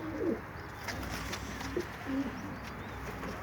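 A pair of breeding pigeons coo softly in short, low phrases, heard faintly at moderate distance over a steady background hum.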